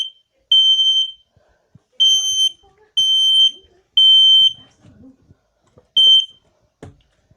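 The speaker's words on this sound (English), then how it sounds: "Good news, I found the smoke alarm." A smoke alarm under test sounds five sharp, piercing electronic beeps at roughly one-second intervals, each about half a second long, loud and close in an otherwise quiet room with faint handling noises between.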